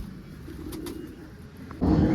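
Soft, low pigeon cooing close by as the pigeons are fed grain, with a brief flutter, then a louder burst of rustling noise near the end.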